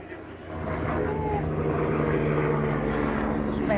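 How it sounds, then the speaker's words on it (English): A helicopter passes overhead in a garden while garlic is being planted, a steady rotor and engine drone that swells up after the first half second and holds loud and even, with some talk alongside. "Chopper going by."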